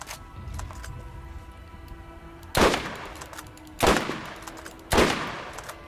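Three loud, sharp sniper rifle shots in the video game Borderlands, spaced about a second apart, each with a quick echoing tail over a low ambient game backdrop.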